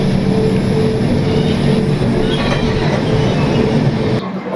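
A passenger train on the Kolkata to Dibrugarh route runs near Rangiya Junction, giving a loud, close, continuous rumble of wheels and carriages that cuts off abruptly near the end.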